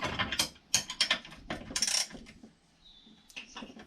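17mm spanner working a bolt on a lift table during repair, giving a run of sharp metallic clicks and ratcheting taps, close and fairly loud, that fade into quieter faint clinks.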